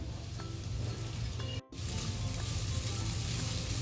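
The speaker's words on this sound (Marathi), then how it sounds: "तो पण थोडासा असा फ्राय करून घ्यायचा आहे" Soaked sabudana fries in a pan for a sweet potato sabudana kheer, giving a steady close sizzle that drops out for a split second before carrying on.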